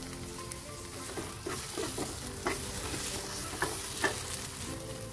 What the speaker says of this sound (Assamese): আপোনালোকে বিলাহীটো প্ৰথমতে বিলাহীটোত বা তেল এৰালৈকে অলপ ভাজি পাছত সৰিয়হখিনি দি অলপ টাইম লৰাবও পাৰিব